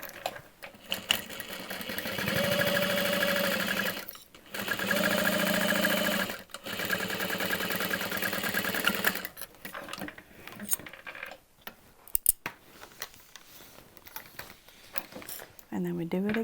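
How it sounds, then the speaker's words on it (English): Sewing machine back stitching a seam on a handbag, running in close, steady bursts of rapid mechanical whirring separated by short pauses, with a person talking over and between the stitching. "And back stitch at the beginning and the end."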